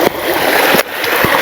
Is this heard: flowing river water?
yes